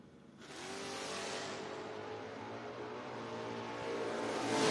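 Drag racing at the FRBR Footbrake Feast, with a Chevrolet Malibu and a Ford Mustang roaring off the line; a loud, sustained engine howl that swells louder toward the end.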